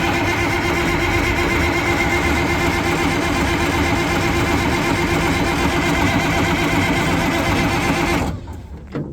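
An old bulldozer engine cranks and churns loudly and continuously at close range for several seconds, then abruptly cuts off near the end.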